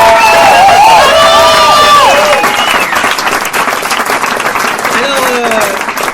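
A large crowd at the Kandidator 2019 final in Lyon cheers and applauds loudly, with shouts and whoops rising over dense clapping that carries on throughout.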